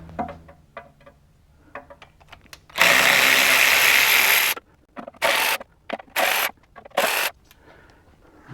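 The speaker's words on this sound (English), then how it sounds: "we're going to start pulling out the oil pan bolts that we need to get out of the way" Power tool backing out Jeep oil pan bolts, one long whirring burst followed by four short bursts with pauses between them, close and loud, with faint clicks before the first.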